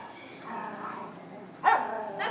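A playful puppy growls in short, rising bursts during rough play with other dogs, getting louder and sharper near the end, with faint background noise and no clear talk.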